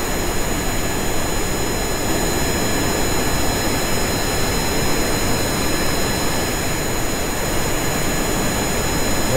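Steady, unbroken roar of a jet engine in the Kerbal Space Program game, loud and constant with a high whine layered over a dense rumble, no voices.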